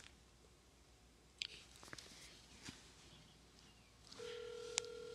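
Phone call to a novelty Sonic the Hedgehog number, with faint scattered clicks and beeps before a steady ringback tone sets in near the end, fairly quiet with no talk.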